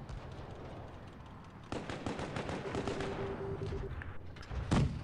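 Tank cannon fire in the mobile tank game WOT Blitz, set on the Raseiniai map: a burst of overlapping game-battle sound with a sharp, loud cannon shot near the end, close and without talk.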